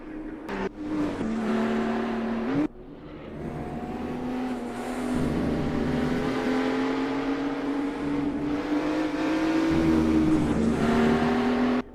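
Race cars lapping in the PHSR Widowmaker Series, a loud sustained engine whine rising and falling through gear changes as the cars pass near, with no talk over it.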